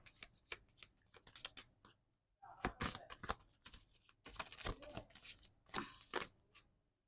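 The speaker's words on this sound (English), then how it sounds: "I'm putting all the cards, shuffling back and see." Tarot cards shuffled by hand with close, irregular papery slaps and riffles, quiet at first, then a busier flurry of snaps and rustling.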